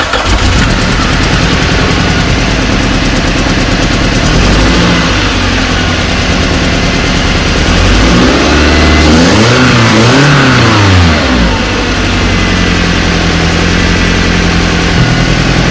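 A 2008 Toyota Hiace engine with a leaking head gasket starts, idles roughly, then revs up loudly in a rising and falling surge before dropping back to a steady, close idle.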